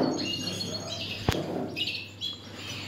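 Several Turkish champion canaries chirp and warble in bright, continuous high-pitched song, close by, with one sharp click partway through.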